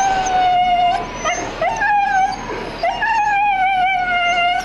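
A husky in a temporary cage at an animal shelter in Szombathely howls, long wavering calls broken by short whimpers and yips, loud and close with no speech.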